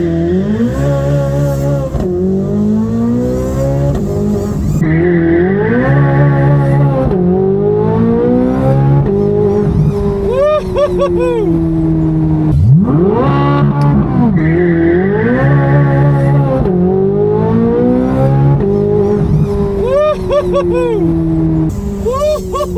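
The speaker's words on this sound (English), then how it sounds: "Hold the brake, hold both paddles, put her on the floor and let it rip." A high-end sports car launches at full throttle from a brake-held start, its engine screaming up through rising revs with sharp gear shifts, repeated twice, loud and close from inside the cabin with occasional voices.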